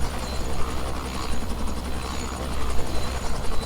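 A Robinson R66 turbine helicopter runs loud and close as it pulls off the runway, with a steady turbine whine and a throbbing rotor pulse, and no talking.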